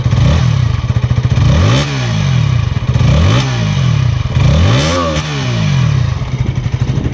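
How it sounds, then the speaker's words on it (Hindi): A 2025 KTM Duke 160 motorcycle is revved up sharply three times from idle, each blip rising and falling quickly back to a steady loud rumble, close and without speech. "थोड़ा सा रेव करता हूँ।"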